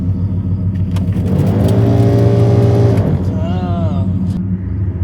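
A car engine revs up hard with a rough, vibrating rumble, holds high, then drops back toward idle, with a voice heard near the end.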